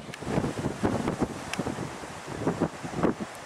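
Strong gusts of wind moving trees, with uneven surging bursts and rough low-end buffeting against the microphone, rising and falling over a few seconds, no talk.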